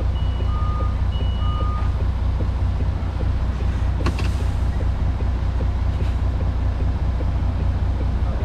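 Reversing beeps sound repeatedly from an HGV truck backing up, steady alarm tones over a heavy diesel engine rumble, with a brief clank partway through.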